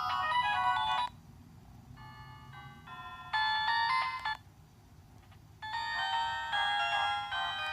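Phone ringtone playing a bright electronic melody in repeated phrases with short gaps between them, clear and alone.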